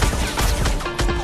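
A mecha firing its guns in an animated comic battle: a loud, dense burst of rapid shots filling the moment with crackling blasts, close and unbroken.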